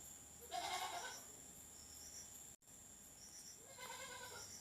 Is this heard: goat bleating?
yes